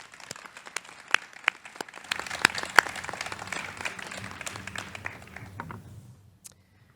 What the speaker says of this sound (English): let's please congratulate him with a round of applause.